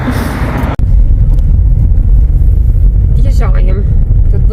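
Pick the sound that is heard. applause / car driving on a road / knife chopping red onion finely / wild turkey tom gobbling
car driving on a road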